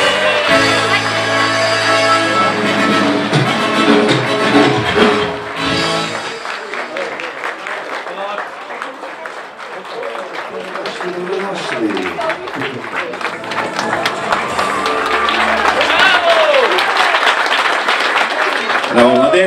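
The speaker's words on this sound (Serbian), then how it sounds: "A sada najjači aplauz za klinica ove večeri" Wedding guests at a reception applaud the newlyweds with loud, continuous clapping while band music plays, the crowd noise swelling again toward the end.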